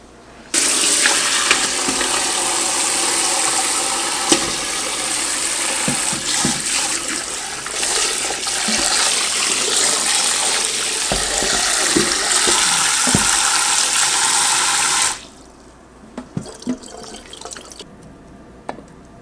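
Jackfruit is rinsed under a running kitchen tap, a loud steady gush of water splashing for about fifteen seconds. The tap then shuts off, leaving a few faint drips and clinks.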